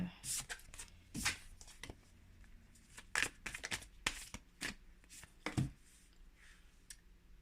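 Tarot cards being shuffled by hand, close and quiet, with repeated crisp riffling and slapping bursts in an uneven rhythm and a soft voice faintly present.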